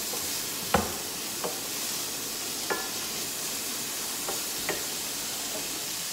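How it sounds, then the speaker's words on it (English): Bacon and onion fry in a pan with a soft, continuous sizzle, broken by several faint knocks and scrapes of stirring spaced a second or so apart; no one speaks. "First I will add maybe bacon and fry together with onion."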